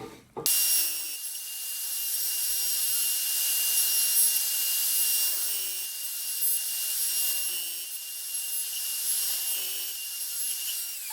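A dovetail joint is cut in scrap wood held in a dovetail jig, making a loud, continuous high-pitched machine whine for about ten seconds, with a few faint low knocks underneath.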